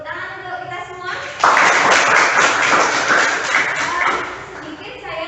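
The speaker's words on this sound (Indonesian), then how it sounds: "Kita beri tepuk tangan untuk kita semua." Participants in a teaching session clapping together, a sudden loud burst of dense applause that holds for about three seconds before tapering, with talking before and after.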